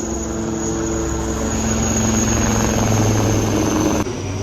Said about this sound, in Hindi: ये देखो हेलीकॉप्टर जा रहा है पीछे आर्मी वालों का